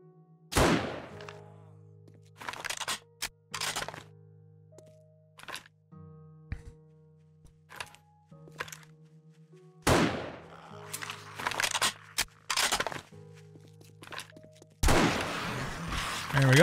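Rifle gunfire in the video game 7 Days to Die: sharp single shots come in scattered bursts, several close together, over a steady low game hum, ending in a denser volley of reports.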